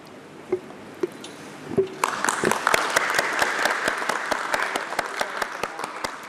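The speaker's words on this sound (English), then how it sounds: "Let's have a huge round of applause for them." Audience applause at a stock exchange listing ceremony for a healthcare company, starting after a few scattered claps and swelling into steady, dense clapping that fills the rest of the stretch.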